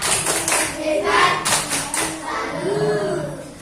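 A short burst of applause from a class of children for a classmate, several rounds of hand clapping rising and fading over about three seconds, fairly close with faint voices underneath.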